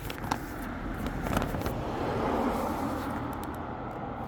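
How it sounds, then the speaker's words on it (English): Road traffic on Harborne High Street: a steady, moderately loud rumble of passing vehicles, with engine noise swelling and fading over a few seconds. No voices. "Excuse the sound of the vehicles."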